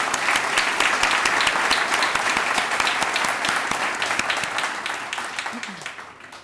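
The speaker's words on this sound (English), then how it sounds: "A round of applause for all they've done." Audience applause at a town's annual State of the Town address, a steady dense wash of clapping for the full length that begins to thin and fade toward the end.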